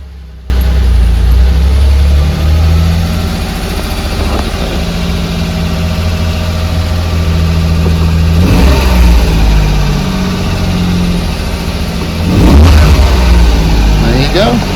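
Daihatsu Hijet S110P engine cold-starting at close range, a brief crank catching into a steady, loud idle that holds with slight fluctuations and a small rev swell near the end.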